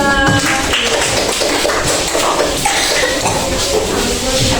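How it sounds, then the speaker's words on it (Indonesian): Applause from a classroom audience for a student group that has just presented on norms, a dense, steady patter of many hands filling the room for several seconds with no speech over it. "Tepuk tangan untuk kelompok 2."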